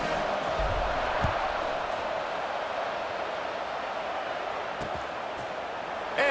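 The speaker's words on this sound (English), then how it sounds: "this crowd is buzzing after that last score" Steady crowd roar at a high school football game fills the space right after a touchdown, a broad distant murmur that holds evenly throughout with no distinct cheers standing out.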